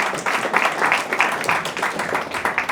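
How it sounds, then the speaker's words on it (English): Audience applause at a Bangladesh-related gathering, a moderate burst of rhythmic clapping that pulses unevenly for a few seconds, heard fairly close with no clear talk over it. "So please give a big round of applause for them."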